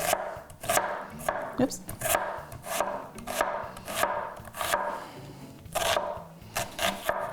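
Knife chopping fresh garlic on a cutting board while brunch is being prepared, a steady run of close, crisp thuds and taps with brief pauses, and a voice briefly exclaiming once.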